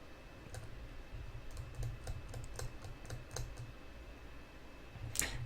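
Someone types a chat message on a computer keyboard during an online chess game. Quick, light key clicks come in uneven bursts, close and fairly quiet, and a sharper clack sounds near the end.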